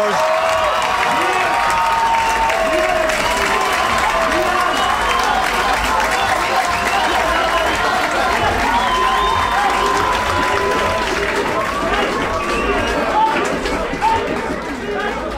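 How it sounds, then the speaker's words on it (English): At a grappling match, the crowd roars and cheers after a submission tap, a loud, sustained wall of shouting, applause and chatter that continues with little letup, with voices mixed in. "Frank taps and the crowd roars"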